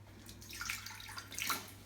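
Water poured into an idli steamer pot, two short faint splashing bursts close by, soft and brief with a low hum underneath.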